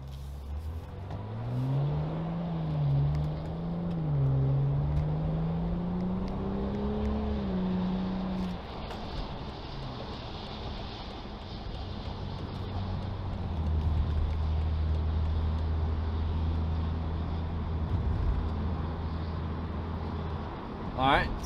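A BMW 535i F10 with a muffler delete drives with a window open, its exhaust note rising and falling as the engine revs, then settling into a steady low drone of road and wind noise.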